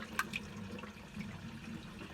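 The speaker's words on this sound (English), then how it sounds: "And that is how to make your sink do a gurgle noise" A household sink drains after the plug is pulled, the water gurgling steadily up close with a brief sharper splash near the start and a continuous bubbling wash throughout.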